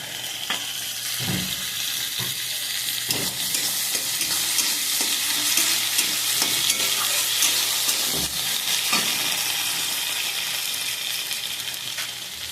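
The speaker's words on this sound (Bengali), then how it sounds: "হ্যাঁ, আদা রসুন পেস্ট করাটা দিয়ে দিলাম।" Ginger garlic paste frying in a pan for egg curry, a steady loud sizzle with a spoon scraping and stirring through it at intervals, no voices.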